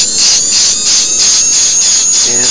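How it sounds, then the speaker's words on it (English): A carbide burr works over the surface of a metal dental coping, giving a loud, steady high-pitched grinding whine with a rhythmic rasp pulsing about twice a second as the burr sweeps in one direction. "Now I change burrs. And I will be working on the surface of my coping with this burr."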